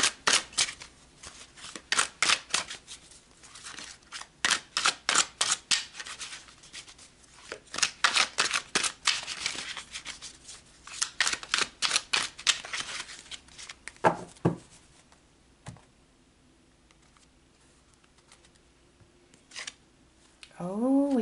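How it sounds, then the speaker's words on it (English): Tarot deck shuffled by hand in quick riffling bursts for about fourteen seconds, followed by a few soft card pulls and slaps, then a near-silent pause and a brief voice at the end. "let's pull some cards and see what your spiritual team wants to say to you"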